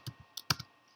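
Several quick keystrokes on a computer keyboard, as a short command is typed, click in an uneven burst of about six taps, close and crisp in a quiet room.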